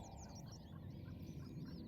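A chicken or rooster in The Sims 4 gives soft, burbling clucks and squawks over a low, busy background of game sound, faint and continuous.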